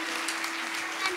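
Soft applause from an audience at a singing show, a brief steady patter heard faintly at a distance.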